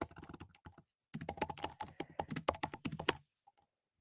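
Rapid bursts of keystrokes on a computer keyboard, close and fairly loud, typed in quick clusters with short pauses between and a brief quiet stretch near the end.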